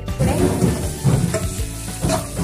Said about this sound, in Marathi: थोडे हे पनीरचे तुकडे मी आता थोडे फ्राय करून घेतले